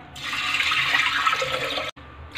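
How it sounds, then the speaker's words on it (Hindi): Water pouring into a pressure cooker holding about 100 grams of black masoor lentils, bringing the water to about 550 ml: a steady, loud splashing gush close by, a brief break, then the pour starts again. "अब ये थोड़ा सा पानी और बढ़ा दिया गया है"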